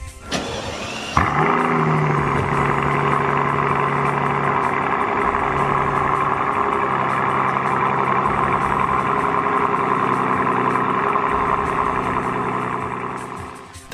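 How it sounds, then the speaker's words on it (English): A Mercedes S65 AMG W220 V12 fires up with a brief starter whirr, then settles into a steady, deep exhaust idle that stays loud and even and holds close by for over twelve seconds. "The exhaust also has a good sound to it."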